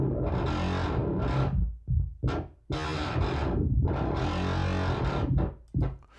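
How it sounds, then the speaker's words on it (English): A distorted, buzzing FM8 FM synthesizer patch with operator feedback plays in loud bursts of gritty tone, cut by a few short gaps. "So that sound is an FM8 FM sound."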